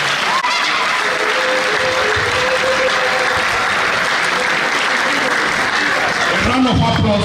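Sustained, dense applause fills a university public lecture hall in Asaba, steady and loud across the whole stretch, with a faint voice briefly over it near the end.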